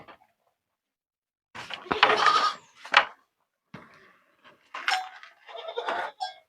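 Goats and cows stirring in a cattle shed as they are untied, with short scattered bleats and rustling knocks in several separate bursts at close range.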